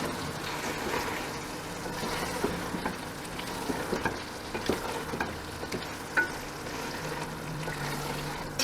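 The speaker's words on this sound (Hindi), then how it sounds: "इस सबको हम अच्छे से मिक्स करके भून लेंगे 3 से 4 मिनट के लिए।" Spice masala with salt and red chilli stir-fried for mutton yakhni pulao, a steady oily sizzle throughout with repeated scraping and clicking of a spoon against the pot, no speech.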